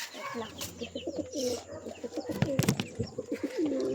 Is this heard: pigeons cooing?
yes